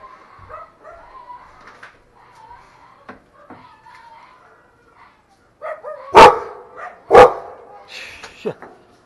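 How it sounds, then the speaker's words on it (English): A neighbor's dog yelping and whimpering as it is being abused, with several sharp, loud yelps near the end following softer whines. "That's my neighbor abusing his dog."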